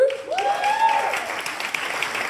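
A studio audience at a TV gong show applauds steadily, with a rising whistle cutting through the clapping at the start.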